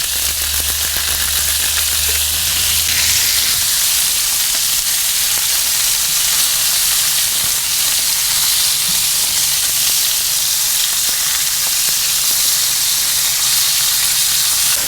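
Loud, continuous sizzle and hiss of seasoned beef chunks searing in a Dutch oven on a Kamado Joe grill, with a low hum at the start that soon fades, leaving the frying roar alone.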